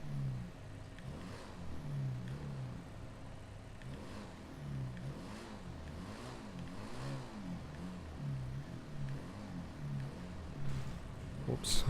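A B400 motorbike in a video game revs its engine in repeated rising and falling pulses. The engine is steady and mid-pitched, fairly faint, and no one speaks over it.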